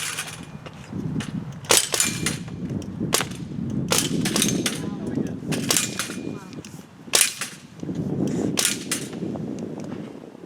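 Rifle shots fired at a marksmanship range at a patriot camp, a string of sharp, loud cracks spaced a second or two apart, over background murmur and shuffling.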